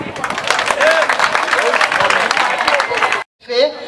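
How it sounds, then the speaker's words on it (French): Audience applause at a Women's Day celebration, a dense burst of clapping and crowd noise that runs steadily, cuts off abruptly near the end, then resumes more faintly with a voice over it. "On applaudit."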